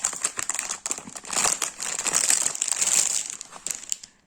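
Plastic packaging of a beaded embroidery keychain kit crinkles and crackles loudly up close as it is pulled open, a continuous rustling burst of a few seconds that ends abruptly.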